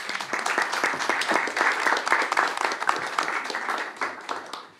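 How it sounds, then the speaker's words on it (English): An audience at a literary reading at Literaturforum im Brecht-Haus claps warmly, with many distinct hand claps merging into brisk applause that holds steady, then fades toward the end. "please give a warm round of applause for Thilo."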